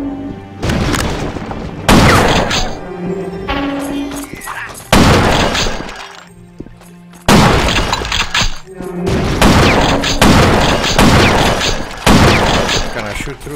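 Enemy gunfire in the shooter Will Rock: loud, harsh bursts of shots and crashing impacts come in repeated clusters with short pauses between, close and heavy.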